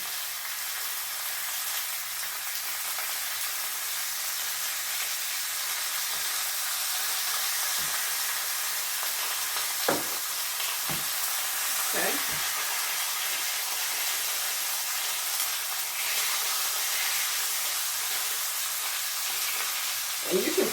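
Pork chops fry in olive oil in a pan with a steady, even sizzle and hiss throughout, broken by a few sharp clicks and scrapes of a utensil against the pan, close and moderately loud with no talking.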